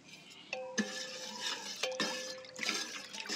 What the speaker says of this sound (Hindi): इसको पूरा अच्छे से मिक्स कर लेंगे ताकि सारा शैम्पू जो है आसानी से पानी में मिल जाए।